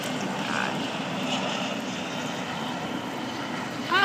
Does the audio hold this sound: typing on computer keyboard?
no